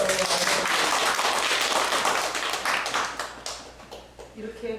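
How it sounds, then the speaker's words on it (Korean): Applause from a church congregation during a Sunday sermon, dense clapping that fills the room and then thins out toward the end, with a voice sounding under it. "박수 한번 해줘요."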